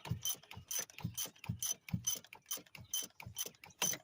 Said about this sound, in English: I could just take it on out of there with the ratchet by itself